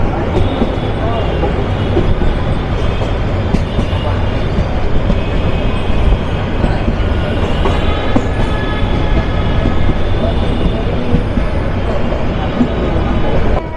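A Turag Commuter train runs from Dhaka to Joydebpur with a loud, continuous rumble and rattle of the carriages, faint wheel squeals rising over the steady roar.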